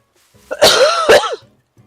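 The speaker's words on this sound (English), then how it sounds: "I was coughing" A person coughs twice in quick succession, close and loud, with a rough, throaty quality.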